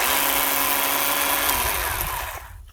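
Close, loud steady whine of a Ryobi 10-inch 18V cordless chainsaw running, then spinning down and fading out near the end.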